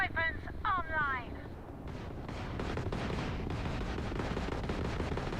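Spaceship weapons fire in the space combat of the game Starfield, with rapid laser-like zaps at the start, then rumbling blasts and a sustained roar of gunfire and explosions.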